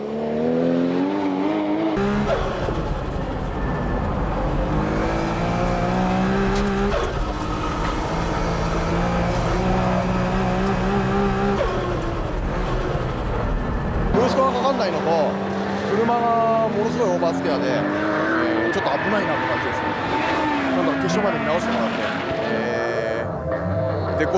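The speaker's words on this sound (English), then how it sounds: "HKS has specially set up the car for Tsukuba today, outputting 700 horsepower." An HKS-tuned 700-horsepower car races at Tsukuba circuit, its engine revving and shifting loudly with high whines and rising pitch sweeps, heard under continuous commentary.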